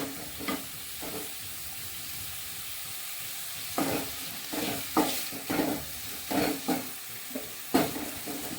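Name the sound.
onions frying and being stirred in a pan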